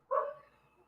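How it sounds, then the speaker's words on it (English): A dog somewhere out in a desert gives a single short, faint bark, with quiet fading after it. "There's some dog in the desert."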